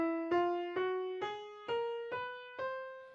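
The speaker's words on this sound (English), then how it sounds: "That's called an octatonic scale, an 8-note scale." Octatonic scale, an eight-note scale, played on what sounds like an acoustic instrument as seven evenly spaced single notes, each struck clearly and then decaying, stepping through the scale at a moderate, steady pace with no other sound.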